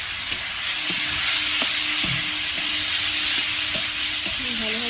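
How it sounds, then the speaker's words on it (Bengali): Fried potatoes dropped into a hot pan of spices for a Bengali banana-flower ghonto with shrimp, giving a steady close sizzle with occasional stirring scrapes and clinks. "ভেজে রাখা আলুগুলো আমি দিয়ে দিলাম।"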